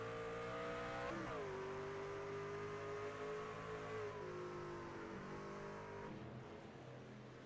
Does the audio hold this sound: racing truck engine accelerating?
yes